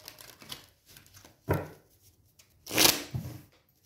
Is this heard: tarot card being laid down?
yes